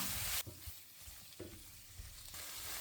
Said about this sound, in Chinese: 接着再放入处理好的虾，继续用锅铲翻炒